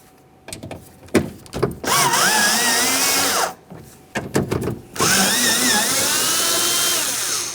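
A power tool whirs in short bursts and then two long sustained runs, close and loud, as it drives the 10mm mounting bolts of a rear window motor on a 1994-1997 Honda Accord.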